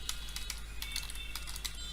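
Rapid, quiet clicking of keys on a computer keyboard, a brisk irregular run of light taps close by over a faint steady hum.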